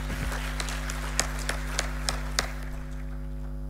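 Scattered, irregular hand claps from a small audience at a formal master class honouring the Canadian ambassador to Morocco, about a dozen sharp claps over a low electrical hum, thinning out toward the end.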